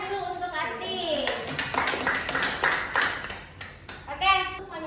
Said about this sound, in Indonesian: Kita kasih tepuk tangan dulu untuk Ati.